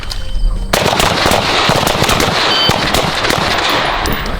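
An AR-15 rifle fitted with a Surefire RC3 suppressor fires a rapid burst of shots on a training range, close and loud, the reports running together into a sustained crackling volley.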